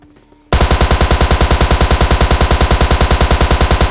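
Automatic gunfire from the game PUBG Mobile Lite erupts after a brief quiet moment, a loud, close, rapid and steady stream of shots that runs without a break.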